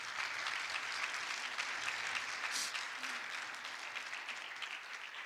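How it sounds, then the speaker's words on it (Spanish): A church congregation claps loudly in a steady, dense wash of applause during a Spanish-language service, continuing evenly for several seconds with no voices on top. "Denle un fuerte aplauso a Jesús, nuestro Salvador."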